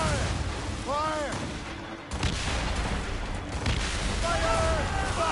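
Cannons firing during a naval ambush in Assassin's Creed Rogue, a dense rumbling barrage of heavy booms with shouted voices and whistling tones layered over the continuous din.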